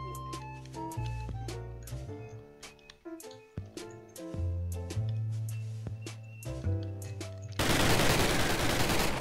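Sharp gunshots crack repeatedly in a modded Minecraft battle over a steady musical backdrop, irregular bursts, ending in a loud burst of noise.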